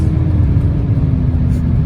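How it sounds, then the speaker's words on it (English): A Mercedes-AMG luxury coupe is floored from a rolling speed, a loud, close engine roar holding steady under hard acceleration for a brief moment. "if I floor it at this speed rolling, instant throwback"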